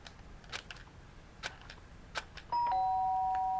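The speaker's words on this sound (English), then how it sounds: "The sharp sound of the doorbell pierced my sleepy haze and pulled me back into the real world." A two-tone doorbell chime in the video game Danganronpa rings once at the end, bright and sustained, loud and clean after a stretch of faint room tone with a few soft clicks.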